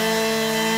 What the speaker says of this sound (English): The sounds of chainsaws are now ringing into the night.